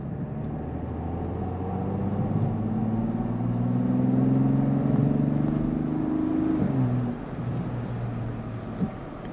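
A turbocharged V6 car engine pulls under light throttle, a smooth low hum rising steadily in pitch as it accelerates, then dropping off sharply as it eases back, heard from inside the car.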